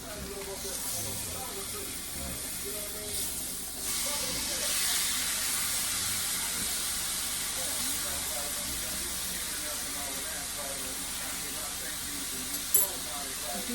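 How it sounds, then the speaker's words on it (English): A beef roast sizzles in a skillet, a constant broad hiss of frying that swells slightly midway and holds steady, with a brief clink near the end and no talk over it. "we're just cooking, fixing the roast today, frying it in the pan"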